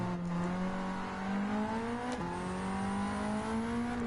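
Ford Sierra RS500 race car engine in Gran Turismo 7 held at full throttle, a loud sustained high rev climbing steadily with a brief dip at a gear change before pulling on.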